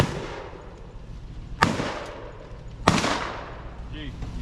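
Two sharp gunshots ring out about a second apart during a hog hunt on a family ranch, loud and close over quiet outdoor background, with people talking and murmuring around them.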